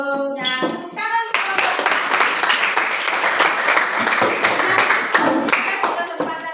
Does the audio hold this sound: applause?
yes